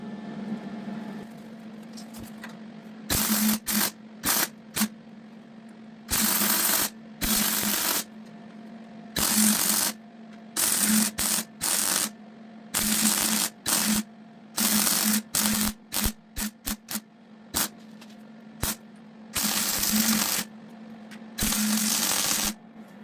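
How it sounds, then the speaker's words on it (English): A spot weld drill punches holes in the steel sill panel of a Holden HQ coupe, loud broadband grinding bursts starting and stopping repeatedly over a steady low hum, close by with no talking. "So I'll grab my spot weld drill and we'll punch some holes"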